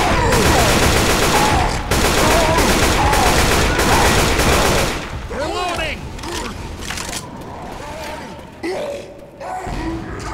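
Rapid bursts of automatic gunfire in the co-op zombie shooter Left 4 Dead 2, loud and dense for the first few seconds, then scattered shots and game noises.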